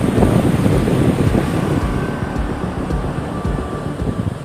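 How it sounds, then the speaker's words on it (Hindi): The flooded Gandak river in Bihar rushes loudly and steadily in a dense roar, with strong wind buffeting the microphone and no voices. "गंडक नदी का ये उफान बिहार को डरा रहा है।"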